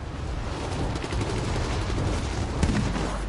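Continuous automatic gunfire during video game target practice before deployment, a loud, steady rattle of rapid shots with a few sharper reports standing out, no talking.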